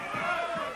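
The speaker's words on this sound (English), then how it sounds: "the crowd going wild here" Crowd at an Australian pro wrestling match, Mario Milano versus Bulldog Browe, roaring and yelling in a brief loud swell of many voices.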